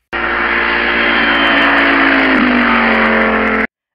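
A person vocally imitating a car engine revving, a loud, steady, sustained engine-like drone lasting several seconds with a slight pitch drop partway through, alone with no other talk.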